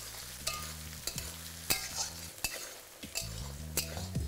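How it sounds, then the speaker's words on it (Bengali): Chopped garlic and green chili being stir-fried in a pan, with a steady sizzle broken by repeated scraping and clacking strokes of a spatula, close and clear, with no voices. "তারপর এটাকে আবারও ভালো করে ভাজতে থাকুন।"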